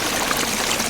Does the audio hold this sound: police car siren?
no